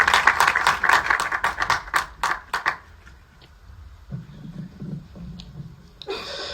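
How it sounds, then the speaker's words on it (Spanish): Short burst of hand clapping from a church congregation, several sharp claps in quick succession that fade after about three seconds, followed by quieter low rumbling. "Un aplauso a Ale."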